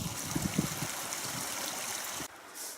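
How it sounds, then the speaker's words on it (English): A small creek in a mountain gully runs steadily with a broad, continuous rushing and trickling wash that stays fairly loud and close before it cuts off abruptly near the end. "It's a little creek"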